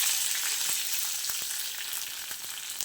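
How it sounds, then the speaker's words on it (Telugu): Curry leaves drop into hot oil with mustard seeds, making a loud, bright, continuous crackling sizzle sprinkled with sharp pops and spits that eases slightly toward the end. "ఇప్పుడు వేస్తున్నాను కరివేపాకు వేస్తున్నాను"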